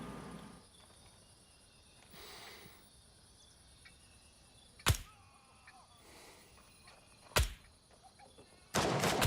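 Three sharp, loud video game gunshot cracks spaced a few seconds apart, standing out over a quiet, faintly buzzing background with light ambient noise.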